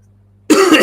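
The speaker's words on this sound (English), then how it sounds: "I think I'm going to be just clearing my throat constantly." A man clears his throat once, loudly and close, a sudden rough rasping burst that breaks a quiet background hum.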